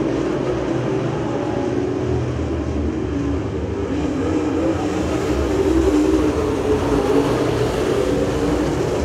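Race cars roar out of turn four at a short oval track, a dense, loud wash of engines that swells toward the end as the pack accelerates back under green.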